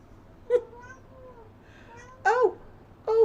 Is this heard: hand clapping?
no